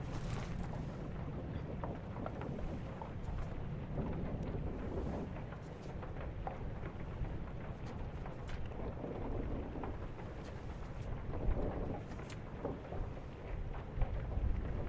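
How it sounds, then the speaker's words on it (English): Stormy weather in the Return of the Obra Dinn video game: steady rain and wind noise with low rumbling thunder, crackling spatters and occasional louder gusts, fairly faint and continuous, without talk. "Next memory is the day of the storm."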